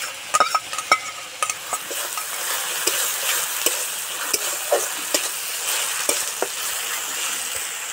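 Chili paste sizzles as it fries in hot oil for a pabda fish curry, a steady close frying hiss broken by scraping stirs and spoon taps, with no talking.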